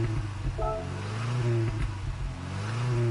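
In Gran Turismo 7, a fully tuned 1993 Volvo 240 SE Estate engine drones steadily and rises and falls in pitch as it revs, loud and close for several seconds.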